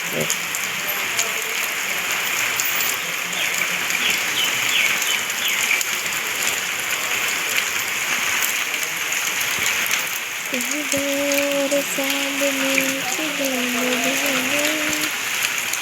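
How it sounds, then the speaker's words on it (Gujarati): Heavy rain pours steadily over a village home, a dense constant hiss throughout, with a voice speaking briefly and a faint tonal drone entering near the end. "વધ્યો વરસાદ વધ્યો"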